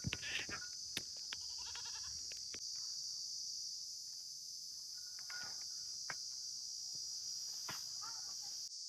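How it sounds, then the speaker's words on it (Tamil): Loud, constant high-pitched chirping of karuvepoochi insects in a village at night, a dense steady drone filling the air, with scattered clicks, knocks and faint animal bleats in the background. "கருவேப்பூச்சி கத்துறது வந்து காதையே அடைக்குது"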